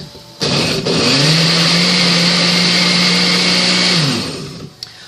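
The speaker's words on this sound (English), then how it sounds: "Let's give this a little blend." A kitchen blender whirs loudly for about four seconds as it purées stewed tomatoes, its motor spinning up to a steady high whine and then winding down, with no talking.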